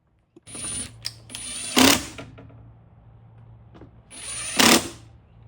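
Cordless power screwdriver driving screws into the corners of a Mercedes-Benz GLB250 air filter compartment lid, with short whirring bursts separated by pauses and faint handling clicks nearby.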